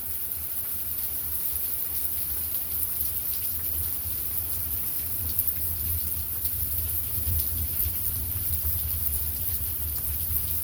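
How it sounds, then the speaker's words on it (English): Heavy rain pours steadily over a yard in the Carolina heat, a dense continuous hiss with a deep low rumble that suggests distant thunder, even and sustained throughout. "I can hear the thunder."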